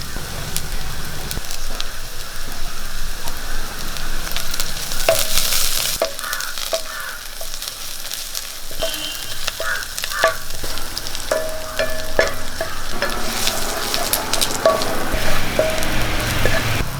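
Green chillies and curry leaves dropped into hot frying oil for a bean stir-fry: a loud, close, crackling sizzle with stirring and clinks of a utensil, steady throughout, no speech.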